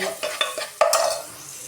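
Fried onions being stirred with salt, turmeric and chili powder in a pan for okra pulusu, with repeated spatula scrapes and clinks over a light sizzle, close and fairly loud.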